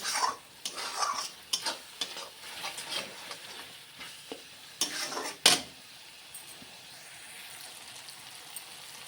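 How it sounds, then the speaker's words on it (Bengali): Spices for dal tarka fry and sizzle in hot oil while a spoon stirs them with repeated scraping strokes against the pan, ending in a sharp clank before the sizzle settles to a steady hiss. "দেখো মশলাটা ভালোভাবে ভাজা হয়ে গেছে, তেল চলে আসছে।"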